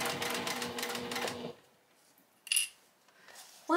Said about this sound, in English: When I'm sewing this, I'm pushing that binding onto that edge